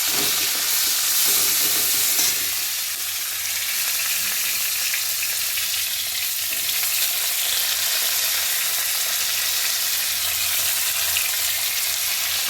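Whole spices, bay leaf and green chillies frying in hot oil for a Bengali tempering, a steady, close, loud sizzle and crackle that runs unbroken with no voices.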